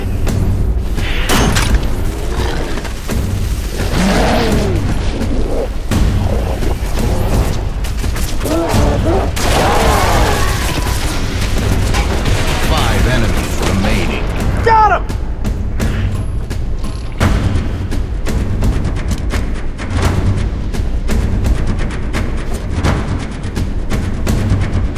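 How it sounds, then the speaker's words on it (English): Heavy turret gunfire rattles in Halo MCC, bursts of booming fusillade running through a continuous loud battle mix with game voices and shouted callouts over it. "I got the turret!"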